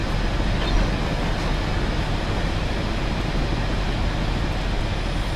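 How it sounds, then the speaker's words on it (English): Freight train running in the Railworks train simulator: a loud, steady rumbling roar of locomotive and rolling wagons, continuous and close without breaks. "So they say it's an intermodal train"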